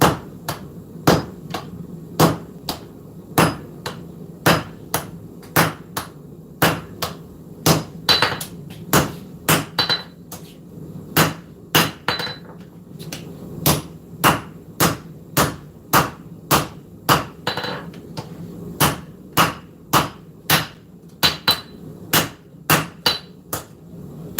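A forged blade is hammered on an anvil, with sharp metallic strikes in a steady rhythm, roughly one to two blows per second, loud and close and continuing without pause for over twenty seconds.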